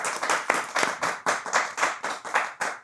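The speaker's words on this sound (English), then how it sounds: "Let's give it a round of applause for" Rhythmic clapping from a small audience at a coffee-world conversation event, steady bursts of hands close by with no talk over them.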